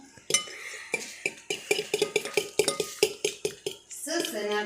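Batter of flour and baking powder stirred in a bowl, a quick, steady series of close clinks and scrapes of utensil against dish, ending with a brief softer rustle.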